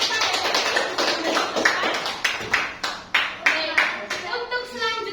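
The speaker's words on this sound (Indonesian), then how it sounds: "Berikan tepuk tangan terlebih dahulu kepada Devi" Applause in a classroom for a student named Devi after her microteaching presentation: a small group clapping in uneven bursts, moderately close, with faint voices mixed in.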